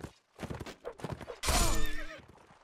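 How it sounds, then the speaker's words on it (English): Horse hooves in a Mount & Blade: Warband battle, a run of close clopping beats followed by a loud whinnying neigh that trails off. "That horse is slow."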